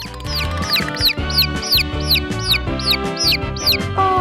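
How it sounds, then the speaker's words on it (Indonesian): Rapid, high-pitched peeping from a baby chicken, repeated in quick bright chirps over a bouncy, rhythmic musical backing. "Lucunya, itu anak ayam."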